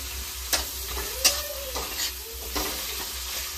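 Coriander powder stirred into a potato chaat masala mix, with soft scraping stirs landing every half second or so over a faint sizzle, close and alone with no voices.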